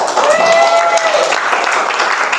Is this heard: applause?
yes